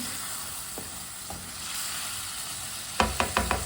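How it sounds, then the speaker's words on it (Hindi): Meat cooks in a pan with a steady sizzle, while a spoon stirs it in a couple of light scrapes early on and then a quick run of four sharp clinks near the end. "गोश्त को मैंने 5 मिनट के लिए पका लिया है चम्मच चलाते हुए।"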